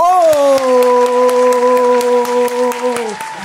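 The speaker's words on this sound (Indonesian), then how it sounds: "Berikan tepuk tangan yang sangat meriah." A crowd applauds with scattered claps while a loud sustained voice holds a long note over it.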